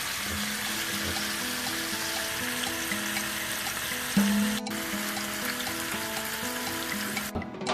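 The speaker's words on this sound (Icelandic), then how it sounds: "Svo rennum við sko dýrinu á pannunum." Meat sizzles in frying pans, a steady close crackle with a brief clatter of cookware midway, no voices.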